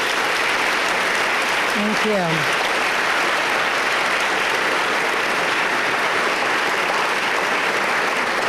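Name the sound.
audience applause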